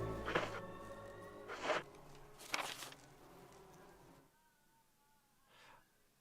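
Bees buzz in the survival horror game Resident Evil REmake, with several swelling drones passing close and then fading, over a low ambient game background with a faint tonal hum.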